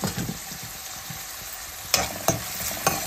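Mutton pieces and chana dal frying in a pan for a Telugu-style curry, a steady close sizzle with a few sharp scrapes of a spoon stirring near the end, no voices.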